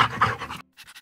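A dog pants in three or four quick, close breaths after a brief silence, following a stretch of louder voiced sound at the start.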